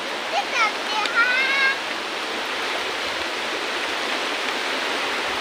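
Heavy, steady rush of a rain-swollen river flowing beneath a rustic village bridge on the Ganesh river, a broad continuous roar; a voice talks briefly over it near the start.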